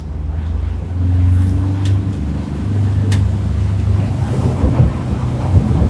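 A Feniks 600 motorboat driven by a Mercury 150 Pro XS outboard picks up speed toward cruising pace, a low engine drone rising in pitch under heavy wind buffeting and splashing water.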